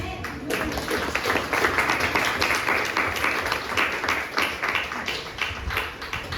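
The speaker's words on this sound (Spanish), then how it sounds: "Denle un fuerte aplauso al Rey" A church congregation applauds during a worship service, rhythmic clapping with distinct sharp claps over a dense crowd wash, fairly steady and moderately loud for several seconds, with a faint high tone in the background.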